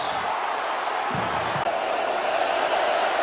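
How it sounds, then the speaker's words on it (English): Utah fans fill a stadium at a college bowl game against Penn State right after a long touchdown run. A broad, steady crowd roar runs throughout, with a couple of dull thumps and a faint voice underneath. "Utes crowd making some noise here."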